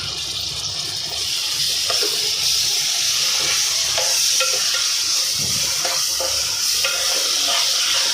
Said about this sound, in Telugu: చూడండి, ఈ విధంగా బాగా ఫ్రై అవ్వాలి.